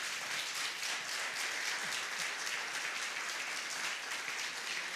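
A church congregation claps in praise, giving a steady, dense round of applause that holds at an even level throughout, with faint rhythmic pulses in the clapping.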